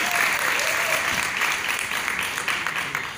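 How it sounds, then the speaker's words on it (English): Audience applause at a women's event fills the room, a steady dense wash of many hands clapping that holds throughout and tapers slightly at the end. "please give yourselves a big round of applause"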